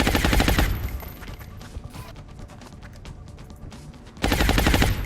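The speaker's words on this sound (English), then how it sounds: "Target locked. Firing shredder rocket." A shredder rocket fires in the XCOM Long War video game, giving a loud burst of explosive gunfire-like crackle, a quieter rumbling stretch of debris, then another loud blast at the end.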